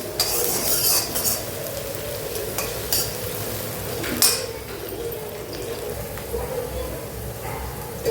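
Onions fry over a high flame for a street-style Manchurian, with a steady sizzle and repeated scrapes and clinks of a spoon stirring against the pan.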